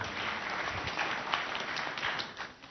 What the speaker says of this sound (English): Please clap for Mr. Jue.